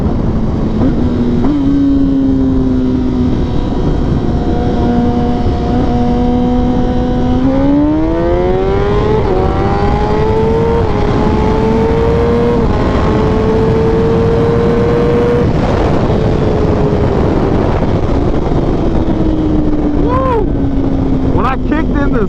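A derestricted 2021 Kawasaki ZX10R pulls hard in sixth gear, its engine note climbing steadily in pitch over continuous loud wind roar, close to the rider.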